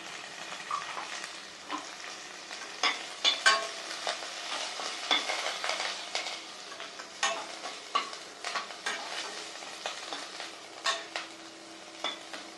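Small carrot pieces stir-fried in ghee for udalu khichdi: a soft, continuous sizzle under repeated scraping strokes of a spoon in the pan, close and steady, with no voices.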